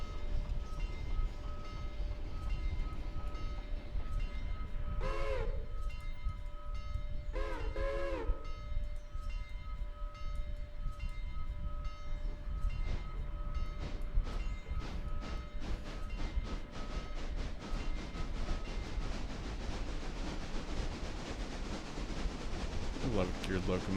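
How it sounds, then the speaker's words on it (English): A geared locomotive runs in the video game Railroader with a steady rumbling engine and rail clatter, a couple of short horn blasts early on, then quickening rhythmic clicking toward the end. "I love geared locomotives, they're so neat."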